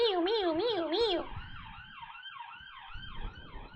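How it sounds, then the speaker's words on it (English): An ambulance siren on a busy street wails in a rising and falling pattern, loud at first, then fading as it moves away into the distance. "There goes the ambulance."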